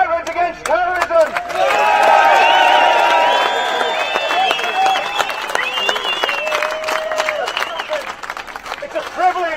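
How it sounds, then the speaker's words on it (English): Applause and cheering at an outdoor veterans' protest in London for Veterans Against Terrorism, a loud crowd clapping with whoops, while voices talk over the noise near the start and end. "Let's have a round of applause for the Veterans Against Terrorism."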